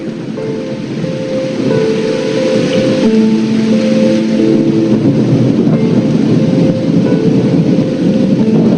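Heavy rain pours steadily during a nighttime thunderstorm, with a low rumble of thunder building underneath; the dense wash is loud and continuous with no voices.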